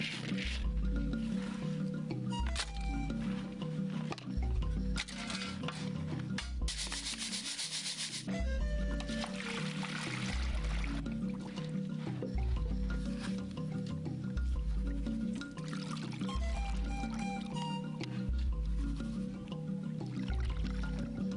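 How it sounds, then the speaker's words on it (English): Grains of food are washed in water after being sieved free of sand, giving steady rubbing, swishing and gritty scraping close by, continuous for about twenty seconds with a brief harsher burst partway through. "she sieves the sand from the grains and washes it for food"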